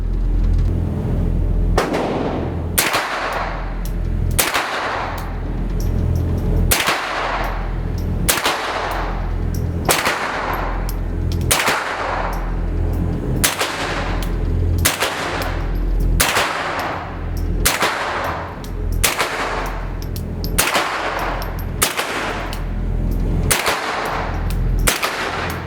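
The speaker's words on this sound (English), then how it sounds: "I like the idea of not having to buy a whole different rifle to shoot .22 long rifle out of an AR-15" An AR-15 fitted with a CMMG .22LR conversion kit fires a long string of sharp, loud shots at a fairly steady pace, about one every second or two, each cracking cleanly over a constant background hum.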